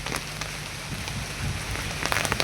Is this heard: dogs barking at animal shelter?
no